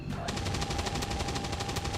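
Suppressive fire in XCOM 2 rattles out as a fast, even burst of machine-gun rounds that begins after a brief pause and runs continuously at moderate loudness, with no talking.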